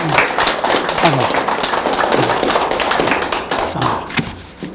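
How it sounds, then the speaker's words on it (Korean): Audience applause welcoming a professor at the opening ceremony of a policy forum, a steady wash of clapping that fills the clip, with voices talking over it. "모두 박수로 환영해 주시기 바랍니다."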